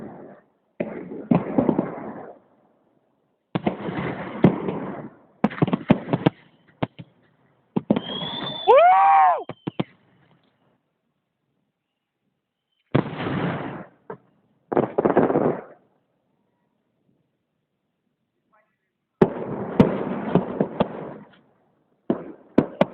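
A fireworks salute explodes over Poklonnaya Hill in February: clusters of crackling, popping bursts come in separate volleys with quiet gaps between, plus one rising whistle midway, heard from a distance and loud when each volley hits.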